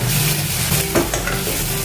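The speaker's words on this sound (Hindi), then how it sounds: "अभी अदरक लहसुन अच्छे से भूनकर तैयार हो गया है।" Ginger garlic paste fries with softened onions in a pan for a paneer curry, giving a steady loud sizzle with scraping stirs throughout and no talking.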